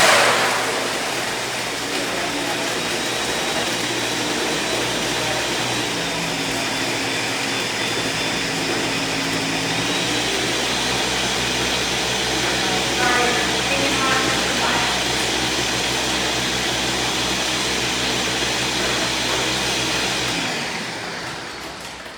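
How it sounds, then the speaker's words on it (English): A loud, continuous blender crushing ice, whirring and grinding for about twenty seconds, with some rattling crunches partway through, then cutting off abruptly. "Crushing up ice."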